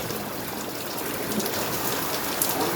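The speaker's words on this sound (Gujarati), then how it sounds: "ફૂલ વરસાદ ચાલુ થઈ ગયો" Heavy rain pours steadily onto metal roof sheets, a dense, continuous hiss and patter that stays loud and even throughout, with no voices.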